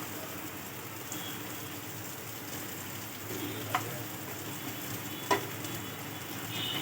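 Mango seed kernels (gothli) fry in ghee with a constant close sizzle and bubbling hiss, broken by a couple of sharp scrapes as they are stirred, with no one speaking.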